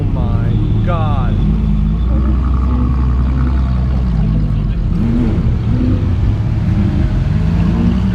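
A line of supercars, including Lamborghini Aventadors, rumbles loudly down a street, engines droning steadily and close throughout, with excited voices whooping over the start.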